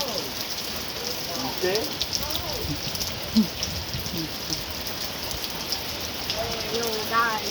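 Rain falling during a severe thunderstorm with wind gusts, a steady hiss of drops hitting surfaces throughout, with voices talking intermittently over it.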